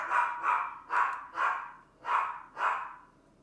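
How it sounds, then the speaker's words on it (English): A dog barks six times indoors at a steady, even pace, each bark sharp and moderately loud with short gaps between. "I apologize for the dog."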